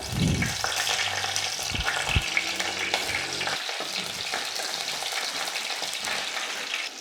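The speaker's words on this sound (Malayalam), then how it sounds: "നമ്മുടെ കടുക് പൊട്ടി വന്നിട്ടുണ്ട്. ഇതിലേക്ക് കുറച്ച് കറിവേപ്പില ചേർത്ത് കൊടുക്കാം" Loud, continuous sizzling and crackling of mustard seeds and curry leaves frying in hot oil for Kerala fish curry, with a few clatters of a spoon stirring the pan.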